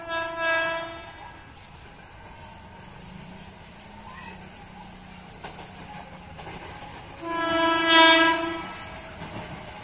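A JR 205 series commuter train on the KRL line passes near the switches at Depok, sounding its horn in two loud blasts, at the start and near the end, over rumbling wheels and faint voices.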